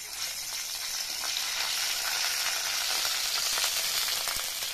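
Ginger and green chilli paste fries in white oil in a wok, an even, close crackling sizzle that holds steady throughout with no talk.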